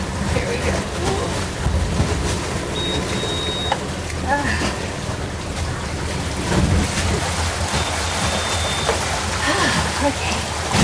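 A sailboat under way on the open ocean in about 12 knots of wind, with steady broadband wind and water rush throughout and people talking briefly over it.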